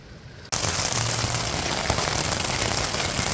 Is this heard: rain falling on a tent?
yes